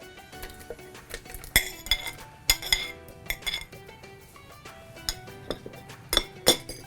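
About nine or ten strawberries drop one by one into a blender jar holding a cup of water, making a series of sharp close clinks and knocks at irregular intervals with quiet gaps between.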